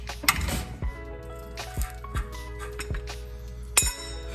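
A 1 1/16 wrench clinks several times against metal while a lowered-spindle install is under way on a 1995 Nissan D21 Hardbody, giving sharp, close, isolated metallic taps spaced irregularly.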